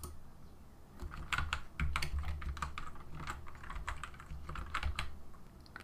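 Fingers type on a computer keyboard while naming layers in Photoshop Elements, giving a quiet, close run of uneven key clicks in quick bursts with short pauses, and no voice.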